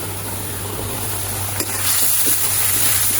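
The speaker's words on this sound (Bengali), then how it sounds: "মশলাটা ভালো করে কষিয়ে নিব।" Spice paste for a jackfruit curry fries in a pan with a steady, close hiss and crackle that grows slightly louder partway through.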